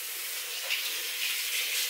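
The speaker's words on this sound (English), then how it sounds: "He's turned on the water" Water runs from a tap in a steady, soft broadband hiss with slight surges, moderately close and alone with no voices.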